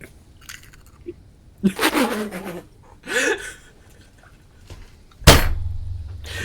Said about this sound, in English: You just hear Minecraft eating noises